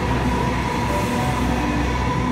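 A non-stopping Sydney Trains C set rushes through Wynyard station underground, a loud, steady roar of wheels and motors filling the whole moment without pause.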